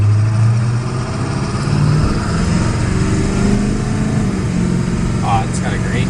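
A 2002 Ford F250 Powerstroke diesel truck, left sitting for two years, drives along with a steady low engine drone and shifts pitch as it changes gears, recorded from inside with a voice talking over it.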